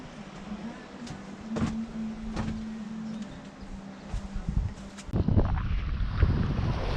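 A sailboat motors under engine off the coast of Guadeloupe with a steady low engine drone. Wind buffets the microphone in gusts, and a louder rush of wind and water swells toward the end.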